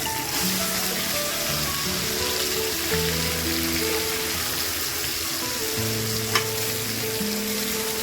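Marinated chicken pieces frying in hot oil for a chicken chop curry, a dense continuous sizzle and crackle filling the whole stretch, steady and close with no speech over it.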